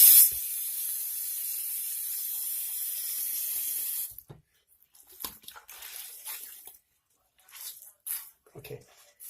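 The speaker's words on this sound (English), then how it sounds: "I'll take this and rinse the soap out" Water runs from a tap while soap is rinsed out of a cloth, a steady hiss that stops, followed by intermittent squishing, wringing and splashing sounds.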